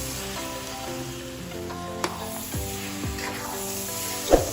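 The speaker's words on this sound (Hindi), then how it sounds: "और खोपरा ये देखें ये शामिल कर लिया और इसको थोड़ा सा मिक्स कर लेते हैं ऐसे, और इसको भी हल्का सा भून लेते हैं" Grated coconut stirred and roasted with carrot halwa in a pan, a soft, steady sizzle broken by a few scraping strokes of a spoon, over a faint tonal hum.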